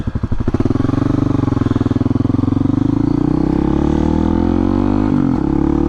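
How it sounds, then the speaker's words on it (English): A Honda CRF250L 250cc dual sport motorcycle rides on backroads, its single-cylinder engine pulsing loud and close, rising in pitch as it accelerates steadily with rumbling wind and road noise. "It's definitely weird going back to doing stuff on the dirt bike, because this is only a 250."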